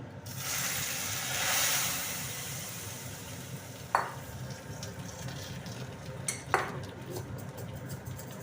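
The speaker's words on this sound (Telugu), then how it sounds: "ఇది ఇప్పుడు ఈ మరుగుతున్న రసంలో పోసేయాలన్నమాట ఫ్రెండ్స్" Amla rasam poured into a pot of boiling rasam and stirred, giving a steady bubbling, sloshing wash with two sharp utensil clinks against the pot partway through, close and moderately loud with no talking.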